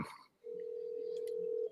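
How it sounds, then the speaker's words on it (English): A single steady electronic tone sounds from a phone line, holding for over a second before cutting off, fairly quiet and with nothing else going on. "Can you hear it ringing?"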